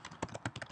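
Brief quiet typing on a computer keyboard at a terminal: a handful of soft, close key clicks in an uneven rhythm.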